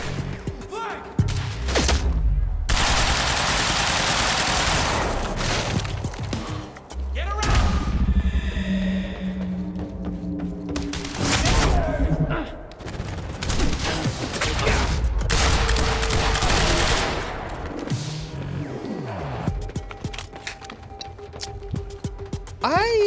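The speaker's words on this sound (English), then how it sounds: "Suppressing fire!" Sustained bursts of heavy gunfire and booming thuds from combat in the video game Quantum Break, loud and nearly continuous with short gaps, with a player's voice shouting over parts of it.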